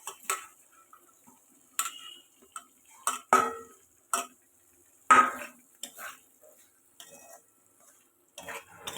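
Okra is stirred into a spice paste cooked down in oil in a pan, heard as a series of close, sharp clinks and scrapes of a utensil against the metal at irregular intervals, with quiet gaps between.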